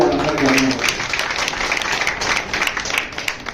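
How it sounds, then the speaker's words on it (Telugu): A crowd applauds at a hospital's free medical camp event marking Independence Day, with steady, dense clapping that continues throughout, close and loud. "మనమందరం కూడా చప్పట్లు కొట్టి వాళ్ళందరికీ అభినందనలు"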